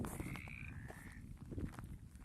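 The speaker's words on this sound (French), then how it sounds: "il y a des grenouilles et des crapauds" Frogs and toads croaking outdoors at night, a steady chorus of rattling croaks with a few longer trilling calls standing out, moderately near, heard without speech.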